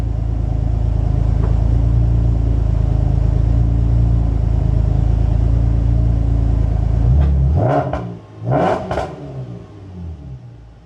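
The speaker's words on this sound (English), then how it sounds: "I'm going to give it a couple revs real quick." A 2010 Camaro engine idles with a loud, steady low rumble close by, then gets two quick, sharp revs that flare up and fall away before settling into quiet.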